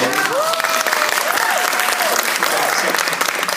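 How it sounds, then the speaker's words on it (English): Loud, sustained applause from an audience at an entertainment designers forum fills the space, with a few whoops and cheers rising above the steady clapping. "so that clap is for Ray"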